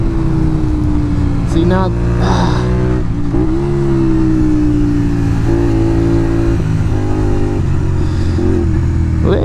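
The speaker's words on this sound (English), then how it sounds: "this V-twin sounds so cool, man. Oh, listen to that out of the corner." Honda VTR 250 V-twin motorcycle on a country road, its engine droning loud and close with a steady throb that rises and falls through the revs, while wind rushes past and a rider speaks briefly over it.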